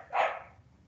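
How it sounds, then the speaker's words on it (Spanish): A dog gives a single sharp bark indoors, loud and close, then it fades quickly. "perdón por el perro"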